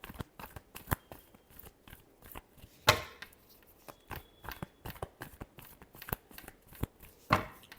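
Tarot cards are shuffled by hand in a run of quick, crisp riffles and taps, close up, with a couple of sharper snaps among them.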